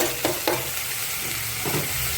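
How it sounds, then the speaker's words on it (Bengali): Chopped onion fries in a pan for chicken curry, a steady close sizzle with a few sharp spoon scrapes and clacks of stirring. "এখন এর ভিতরে দিয়ে দেবো পেঁয়াজ কুচি।"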